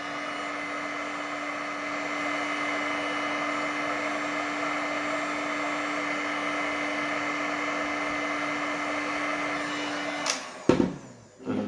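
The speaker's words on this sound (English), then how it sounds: "use the heat gun to do that. I use a smaller nozzle, just around 10 seconds inside when it's fully hot" A heat gun with a small nozzle blows hot air in a steady, loud whooshing roar with a constant motor hum for about ten seconds. It then cuts off abruptly, leaving brief handling clatter.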